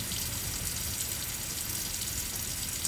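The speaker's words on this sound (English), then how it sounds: "You carry it to the sink and turn on the cold tap." Cold water runs steadily from a kitchen tap into the sink, a continuous broadband hiss with no pauses, fairly close and even in level throughout.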